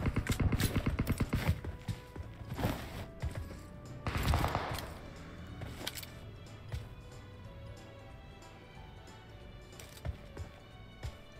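Gunfire in the PUBG Mobile game crackles in a rapid burst of shots at first, followed by scattered single shots and distant pops over quieter game ambience.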